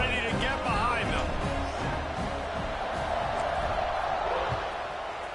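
A football stadium crowd roars at kickoff of a UCLA versus Maryland game, a loud sustained wash of cheering that goes on throughout while a commentator talks over it.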